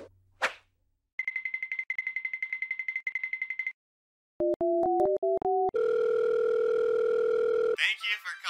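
Telephone call to a restaurant: a steady dial tone, then a burst of touch-tone beeps and a long ringback tone, loud and clean, followed by a recorded voice speaking.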